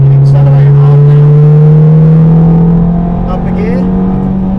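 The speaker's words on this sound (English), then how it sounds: "let the car run wide, over to the left and you can accelerate hard now." A supercar accelerating hard on the Silverstone circuit, a loud, close, steady engine drone climbing slowly in pitch, with a voice talking over it.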